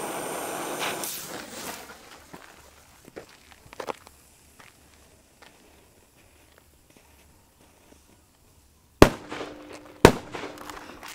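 Two firecrackers from the Asia Dragon Bazar go off one after the other, each a sharp, loud crack about a second apart, following a quieter stretch of faint rustling and footsteps.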